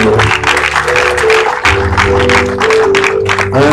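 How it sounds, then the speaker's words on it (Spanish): Church congregation at a worship service in Chimbote, Peru clapping together, loud and close, a dense sustained patter of many hands with steady rhythm, mixed with a musical tone and some voices. "Puede aplaudir al Senhor"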